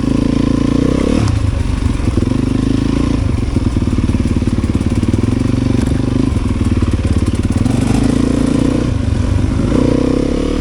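Motorcycle riding a trail, its engine loud and close throughout with a steady rumbling drone, shifting revs and rattly clatter, and no voices heard.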